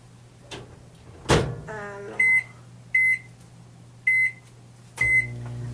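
A microwave oven heating a homemade lip scrub mixture hums steadily, then a loud thud and a run of clear beeps in four evenly spaced bursts mark the end of the cycle, close by.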